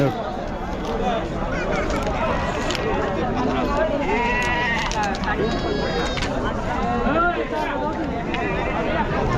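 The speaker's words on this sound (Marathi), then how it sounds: "चांगल्या क्वालिटीमध्ये मेंढ्या आहेत" Many sheep bleat over and over amid a busy crowd at a large sheep and goat market in Chakan, Maharashtra, with steady chatter from people all around, loud and close.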